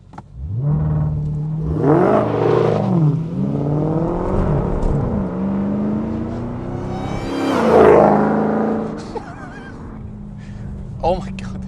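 A supercharged 2019 Dodge Challenger SRT Hellcat Redeye V8 launches at full throttle, its engine surging and rising in pitch twice, loud and close, while a person talks over it.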